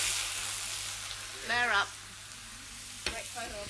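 Orange juice is poured into a hot pan to deglaze it, giving a steady broad hiss and sizzle throughout. A voice speaks briefly over it, and a sharp clink follows near the end.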